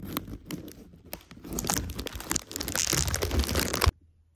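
A bag of Smoky BBQ style oven-baked chips crinkles and rustles loudly up close, in dense crunchy bursts that build for a few seconds and then stop abruptly.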